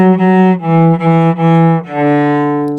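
A cello plays a sustained, bowed phrase of several connected notes from a Suzuki Book 1 piece, settling onto a long held A at the end; close and full in tone with no talking.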